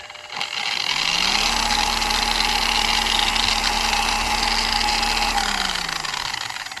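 A Maxshine M21 Pro polisher spins up and runs at full speed with a steady, loud whirring motor hum and vibration that holds unbroken throughout.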